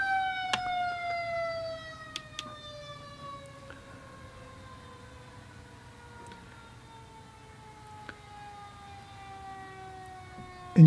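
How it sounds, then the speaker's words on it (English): Sirens from a town parade sound at a distance, long steady wailing tones gliding slowly downward through the whole stretch, with a few faint clicks and knocks nearby. "we're having some parades today, so I hope we can enjoy that fun sound of the sirens."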